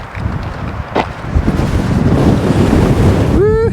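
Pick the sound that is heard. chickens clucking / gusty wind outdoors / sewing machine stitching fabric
gusty wind outdoors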